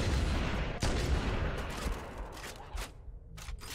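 Gunfire in the video game Halo: Combat Evolved, a dense volley of rapid shots and booms, low and fairly faint in the mix, thinning toward the end with a few scattered sharp reports.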